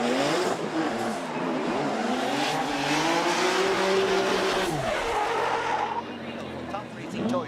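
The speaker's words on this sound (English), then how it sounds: "Now, Hibino, always hard flick at the initiation" A GR86 drift car with a 2J engine at a Formula Drift Japan event hard-flicks into a slide, its engine revving hard and shifting pitch over tire squeal and crowd ambience, loud and close before easing off.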